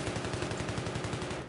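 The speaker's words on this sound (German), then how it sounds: "ich werde beschossen" Rapid automatic gunfire from Battlefield 3 rattles on without a break for about a second and a half, loud and close, in an urban firefight near a shop.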